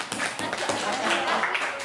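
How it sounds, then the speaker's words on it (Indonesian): Audience clapping during a student public speaking presentation, a short burst of mixed claps under overlapping voices and chatter. "Oke, beri tepuk tangan dulu buat siapa boleh?"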